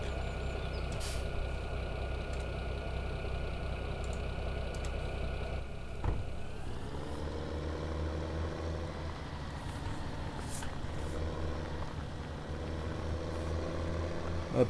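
Tractor engine in a farming video game, a low steady engine drone that shifts pitch around midway as the machine moves off, with faint clicks on top and no talking.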